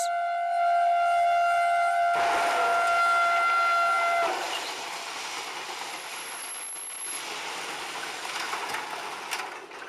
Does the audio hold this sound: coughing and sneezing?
no